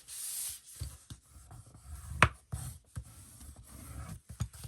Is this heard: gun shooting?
no